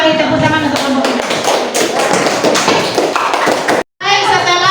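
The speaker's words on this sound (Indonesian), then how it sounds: "tepuk tangan untuk kelompok ini" Classroom applause for a group of students, dense rapid clapping from many hands filling the room, loud and steady, breaking off briefly near the end before resuming.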